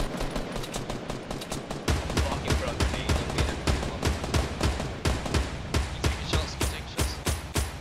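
Rapid gunfire from a Fortnite battle royale fight, dense bursts and single shots crackling almost continuously with heavy low thumps, loud and close throughout.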